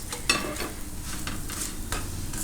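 Maize flour thepla roasts on a hot griddle, a soft continuous sizzle with a few light scrapes and taps as it is pressed and turned, close and without talking.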